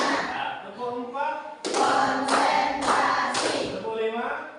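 Four sharp hand claps ring out in a classroom clapping game, spaced about half a second apart, with children's voices chanting alongside.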